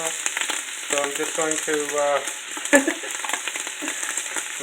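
Spices dropped into a hot oiled pan for Indian beef curry, a steady crackling sizzle and frying hiss close by with a clink of utensils, as someone speaks briefly over it.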